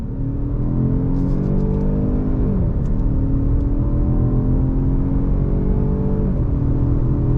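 A 2021 Jaguar XF luxury sport sedan engine pulling hard under throttle, a loud steady rising drone heard from inside the cabin, with two brief dips like gear shifts and no talking.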